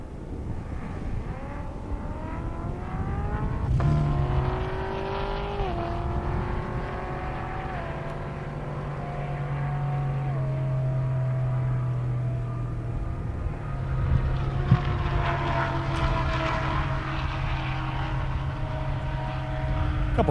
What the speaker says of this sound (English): Got a nice looking Camaro coming up. Two Camaros, I should say.